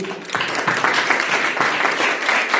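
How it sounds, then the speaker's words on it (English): A corporate audience at a Singapore private equity and venture markets event claps for the panelists, a dense burst of applause that rises just after the start and holds steadily to the end. "let's give a warm hand of applause for the panelists today"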